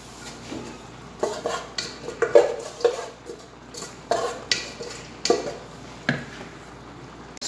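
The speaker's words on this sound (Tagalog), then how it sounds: "haluin po natin siya para maglasa yung sauce at yung noodles" A utensil scrapes and clanks repeatedly against a pan while stirring noodles in sauce, in irregular strokes, close by, with quiet gaps between the stirring knocks.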